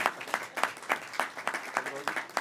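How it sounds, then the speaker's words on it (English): Light audience applause at a city council meeting, a modest group clapping in a loose rhythmic patter, fairly faint in a room with a faint voice under it. "You can clap."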